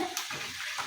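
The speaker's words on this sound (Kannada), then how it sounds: "ಚೆನ್ನಾಗಿ ಫ್ರೈ ಆಗಿದೆ" Chooda snack frying in a pan, a soft continuous sizzle and crackle with faint stirring, steady and fairly quiet throughout.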